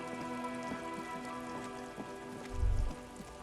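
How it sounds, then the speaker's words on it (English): Rain pattering in Disco Elysium, a soft steady hiss with scattered drops and a low rumble near the end, no voices. "Raindrops slip from the barrels of your Villiers 9."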